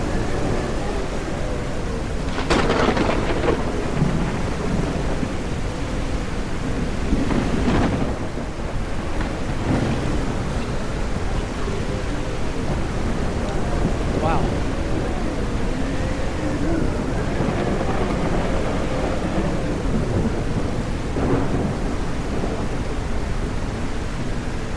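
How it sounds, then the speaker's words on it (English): A thunderstorm with rain in the video game SurrounDead: steady heavy rain hisses throughout while deep thunder rumbles roll in several times, loud and close. "What do you think of that storm?"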